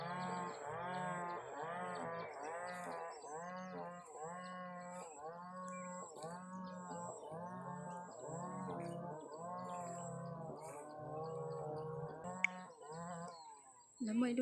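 Water buffalo low in a steady run of repeated, drawn-out calls, fairly close and clear, with a high chirping sound above them throughout.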